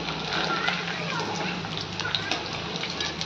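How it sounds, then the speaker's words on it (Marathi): Chicken 65 frying in hot oil until crispy, a dense steady crackling sizzle with scattered pops, close, under a voice talking throughout. "असं क्रिस्पी होईपर्यंत त्याला तळून घ्यायचं"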